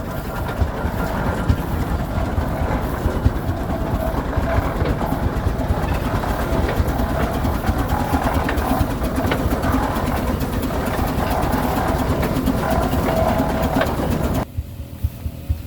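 A steady, loud mechanical chugging and rumble from an Avery 40 undermount double-cylinder steam traction engine runs throughout, then cuts off abruptly near the end.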